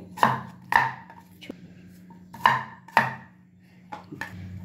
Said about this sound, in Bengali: আর অর্ধেকটা আমি আপেল দিয়ে দিচ্ছি। দেখুন এইভাবে টুকরো করে